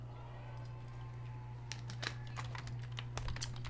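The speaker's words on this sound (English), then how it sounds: "So you can hear me typing." Keys tapped on a computer keyboard in quick, irregular bursts, faint and close against a steady low electrical hum.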